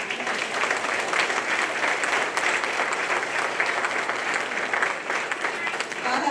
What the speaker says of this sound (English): Cadets, we're going to give our parents a round of applause